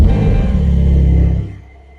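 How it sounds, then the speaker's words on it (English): A 2022 Porsche 911 Turbo S Cabriolet engine starts and rumbles loudly with a deep low growl, holds steady, then drops away quickly toward quiet idle near the end. "I'm going to start the engine."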